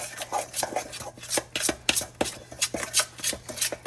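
Jalapeño cheddar cornbread batter with butter is stirred in a bowl, giving a steady run of close scraping, slapping strokes with an uneven rhythm and no talking.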